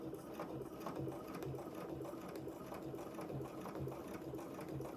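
A sewing machine stitches steadily into the corner of a quilt, its needle action forming an even, rapid mechanical rhythm that runs close and continuous without pause.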